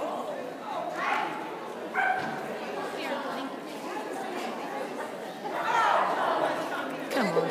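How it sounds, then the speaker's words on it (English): A dog barks and yips excitedly in short bursts, with people chattering throughout and the barking swelling louder toward the end. "now he's going to get that dog all hyped up"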